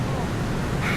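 A flood-swollen river rushes in a wide channel with a continuous, broad roar of fast water that stays constant throughout, with no clear voices.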